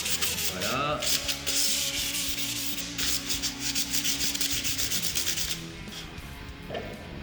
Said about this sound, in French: vraiment le polissage des embouts, enfin des bouts de frettes, c'est hyper important